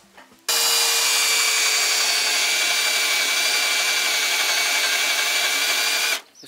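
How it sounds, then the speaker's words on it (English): A power drill boring out rivets on a school bus body, one continuous loud, high-pitched grinding whine lasting about six seconds, close by, starting and stopping abruptly. "Just drilling out some rivets."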